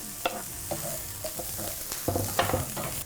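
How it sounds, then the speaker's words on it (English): Onion, garlic and chili sizzle and crackle in a hot pan while being stirred, with soft scraping and clatter, close by and fairly quiet. "So we're gonna start off with the onion, garlic and chili into the pan. Oh, nice sizzle."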